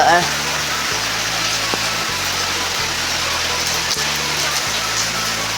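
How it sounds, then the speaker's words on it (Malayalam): Loud, steady downpour of heavy rain, a dense continuous hiss, with a low droning hum underneath. "മഴ നല്ല സ്ട്രോങ് ആയിണ്ട്"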